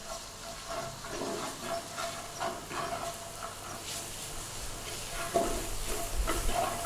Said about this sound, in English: So give that a little stir in there.